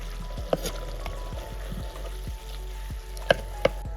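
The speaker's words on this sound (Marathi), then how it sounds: "ते वरती राहिलेला कांदा वगैरे ते सगळा मिक्स करून घेऊ" Onion and chicken are stirred together in a clay pot, a close, continuous scraping and sizzling mix with a few sharp clinks of the spoon against the pot.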